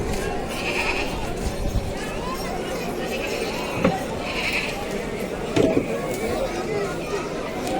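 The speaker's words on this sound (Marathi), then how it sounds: "बघा ना केवढे मोठे मोठे बकरे आहेत" Goats bleat repeatedly amid the busy Deonar livestock market before Eid al-Adha, with crowd chatter and voices filling the background throughout.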